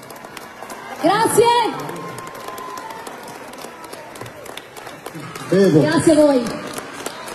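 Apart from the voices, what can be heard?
audience applause for a singer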